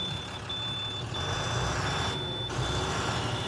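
A truck building air pressure after starting, heard as a steady engine rumble with a faint hiss, accompanied by a continuous high-pitched reversing-style beep, fairly close and without talk.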